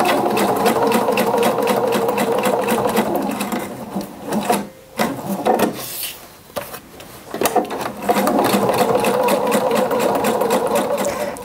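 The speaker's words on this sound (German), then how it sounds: "Jetzt werden die kurzen Seiten jeweils abgenäht." A sewing machine stitching the short side seams of a fabric bag, a steady close mechanical whirring that runs, pauses with a few clicks and handling noises in the middle, then resumes at full speed.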